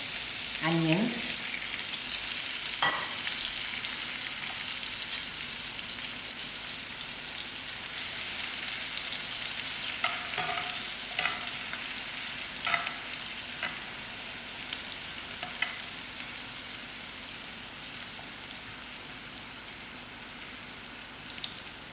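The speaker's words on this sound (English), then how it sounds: "Okay, I'll actually allow my onions to brown a little." Onions fry and brown in margarine for a basic dhal, a steady close sizzle throughout with a few soft clinks and stirring scrapes of a utensil in the pan.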